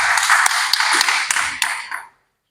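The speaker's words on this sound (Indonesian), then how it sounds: "Kita berikan tepuk tangan buat." A church congregation at a Sunday service applauds a guest called to the front: dense, steady clapping filling the room for about two seconds, then cutting off abruptly into silence.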